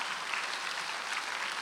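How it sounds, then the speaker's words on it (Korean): Church congregation applauding during a Sunday worship service at Jesus-centered church, a steady dense wash of clapping at moderate level filling the whole short stretch, no voices over it. "박수하세요."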